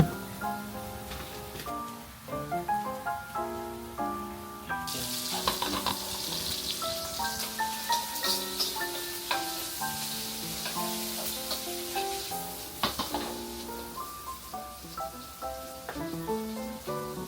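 Sugar cooking in a pan gives a steady sizzle and bubbling, with a tonal music-like layer running underneath throughout.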